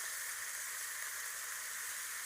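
Spice paste of ground ginger and cumin with turmeric, chili and salt frying in a pan gives a steady, soft, even sizzle with no break.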